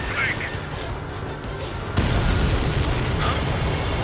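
Enemy transport blowing up in Ace Combat 7, a broad rumbling boom that swells abruptly midway and rolls on loudly over continuous jet and combat noise, with radio chatter in the mix.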